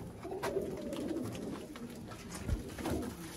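Ferozpuri pigeons in Sialkot cooing: low, soft throaty coos and murmurs repeat close by over a faint background, with no talking.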